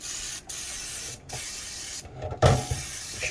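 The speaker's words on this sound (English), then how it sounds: "If you can, you want to hold the spray can upright as well." An Easy-Off oven cleaner aerosol can sprays in several short bursts, a close, bright hiss that cuts off abruptly between presses, with faint handling noise after the last burst.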